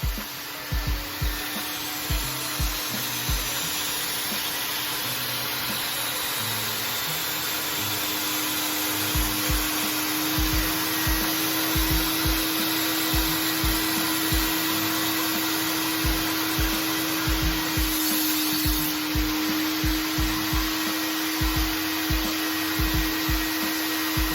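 Mytee Lite III carpet extractor making wet and dry passes over carpet, a steady vacuum whine with a low hum underneath and regular thumping strokes as the wand is pushed back and forth, close and continuous.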